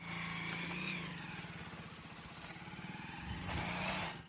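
A motorbike climbs a hill road in the rain, its engine droning steadily and close throughout, with a rhythmic throb in the middle and a swell near the end over a steady hiss.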